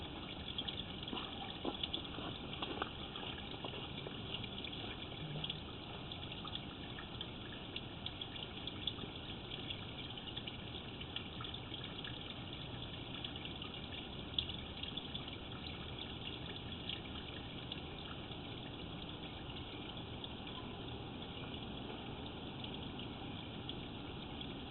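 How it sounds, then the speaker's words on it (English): Water draining out of a residential sewer service lateral after the supply is shut off, a steady low rushing flow that continues for about twenty-five seconds, faint and unbroken, with no voices. "I have turned off the water. I'm just going to allow time for this line to drain out."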